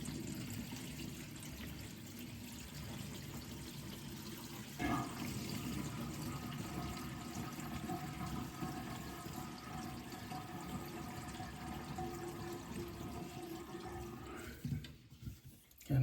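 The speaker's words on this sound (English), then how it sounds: "I'm going to release the pop-up, the drain, and a whole lot of water is going to rush down" Water rushing down a bathroom sink drain once the pop-up stopper is released, a steady close gush that runs for about fifteen seconds before abruptly cutting off.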